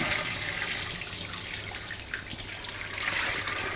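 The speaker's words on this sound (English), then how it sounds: "I will use my sieve again and just give that a rinse. Got one of these handy taps with a spray on it" A spray tap rinses a sieve during a Shetland fibre bark-dyeing session, giving a steady hissing rush of water with slight splashing changes, close and continuous, with no voices.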